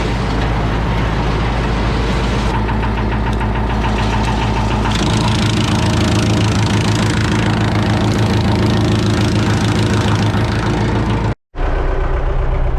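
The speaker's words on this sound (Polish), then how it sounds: "Odstawiam ciągnik i widzimy się jutro" A heavy diesel tractor engine idles steadily with a low knocking rumble, then cuts out abruptly near the end before briefly starting again.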